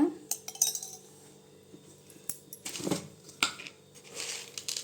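Fried ingredients for pirandai chutney are scraped from a pan into a vessel, with close, irregular clinks and scrapes of a metal spoon, then a brief rustle.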